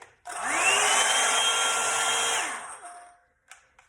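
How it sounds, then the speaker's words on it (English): A hot airbrush hair dryer switches on and blows a steady, loud whirring hum with a high whine for about two seconds, then winds down and stops, followed by a few faint clicks. "And we're going to turn on our hot airbrush."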